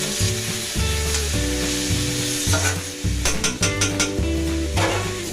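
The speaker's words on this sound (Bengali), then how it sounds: "সবজিটা আমার পুরোপুরি ভাজা হয়ে গেছে এটা মিক্স করে ভেজে নিতে হবে" Vegetables stir-fried in a wok on a gas stove, with loud continuous sizzling and rhythmic scraping and clattering of a spatula against the pan, no voices.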